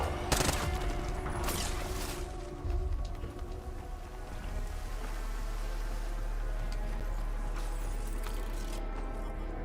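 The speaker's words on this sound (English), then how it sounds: "Oh yeah, submachine gun." Submachine gun fire in Call of Duty Black Ops 6 multiplayer: dense bursts of rapid shots early on, followed by a steady rumbling wash of game ambience. No voices.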